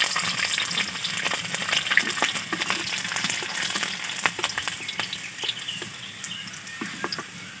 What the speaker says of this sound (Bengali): তেল গরম হয়ে গেছে, এই তেলে দিয়ে দেব রসুন।